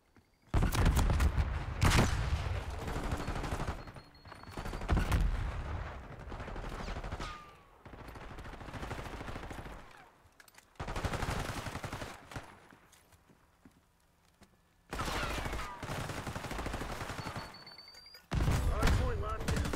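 Bursts of rapid SMG gunfire in Black Ops 6 ranked Hardpoint play, loud and close, several volleys separated by brief quieter gaps with faint footsteps and thuds.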